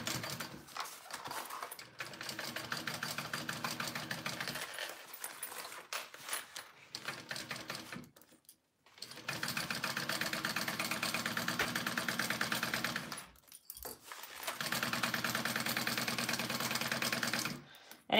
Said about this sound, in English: So now I am going to just sew this so it's, you know, the lining and the exterior are together